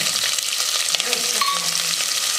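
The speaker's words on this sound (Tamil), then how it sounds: "கொஞ்சமாக கடுகு போட்டிருக்காங்க கடுகு பொறிஞ்சிருச்சு" Steady crackling sizzle of mustard seeds spluttering in hot oil, dense and close, with a few sharper pops scattered through.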